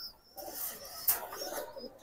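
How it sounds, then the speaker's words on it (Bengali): A red plain pigeon, also called chandi lal, coos softly in a quiet loft, a faint low burble with a brief sharp knock partway through, no speech over it. "এটা হইলো ইয়া লাল প্লেন কবুতর, লাল প্লেন বা চান্দি লাল কয় অনেকে।"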